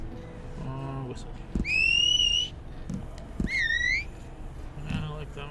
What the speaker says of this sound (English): Let's pick a whistle.